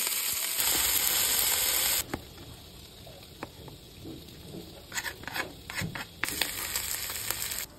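Pre-stewed tulingan fish frying lightly in a pan gives a loud, steady sizzle for about two seconds, then quieter crackling with scattered pops and bursts of spitting oil.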